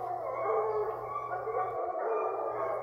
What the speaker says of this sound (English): these dogs are getting this track lined out, and the furthest ones are about 200 yards away